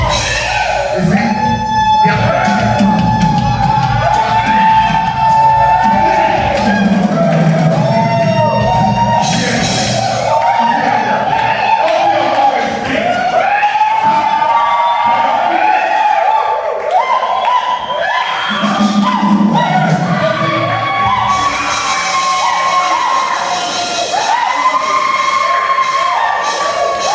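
A church congregation at a morning devotion shouts and screams, a loud, continuous crowd roar of overlapping yells and cheers that rises and falls for the whole stretch.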